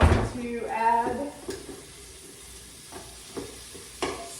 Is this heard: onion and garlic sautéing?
yes